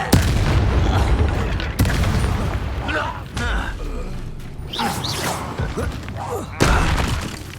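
In Hogwarts Legacy, the Confringo explosive spell lands as several loud booming blasts with crackling, shattering tails. Sharp hits recur across the stretch, mixed with game creaks and brief voice bits.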